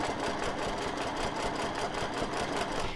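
A sewing machine quilting a mandala quilt runs in a steady, continuous mechanical whir with a fast regular stitching rhythm, close and even throughout, no voices.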